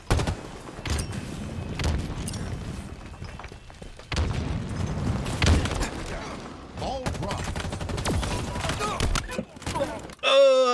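A grenade blast in Halo Infinite multiplayer goes off amid a busy firefight, with a deep boom among rapid gunfire bursts, loud and close, under game announcer lines and player chatter.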